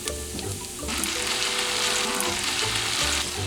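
Chili starter of crushed and diced tomatoes with red and green peppers is stirred together in a hot pan, a steady close sizzle and fry with soft scraping strokes running the whole way, no voices.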